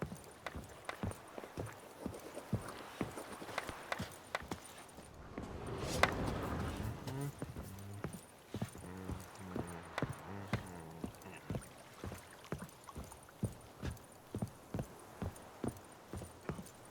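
Roach the horse gallops in The Witcher 3, with hooves thudding in a steady, evenly spaced rhythm close by that runs the whole way through over a low game background.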